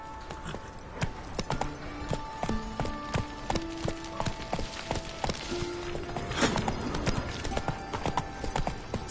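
Horse hooves clip-clopping at a steady trot in The Witcher 3 on PS5, a repeated rhythmic beat under game music, with a brief snort or whinny near the middle.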